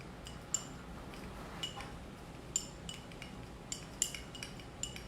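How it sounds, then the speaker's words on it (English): Stirring potassium iodide solution in glassware: light, irregular glassy clinks and taps of a stirrer against the container, quiet and close, with no talking. "And we'll just stir that up."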